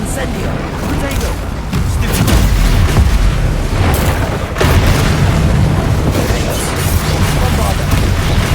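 Bombarda spell blasts in Hogwarts Legacy boom repeatedly, loud dense explosions with rumbling bursts layered over game noise, while a voice speaks over them.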